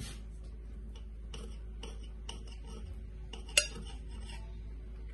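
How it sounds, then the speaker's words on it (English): A knife cuts through cinnamon rolls on a board, making a string of quiet, irregular taps and scrapes, with one sharper clack near the end over a steady low hum. "I want to cut these, put it in the glaze"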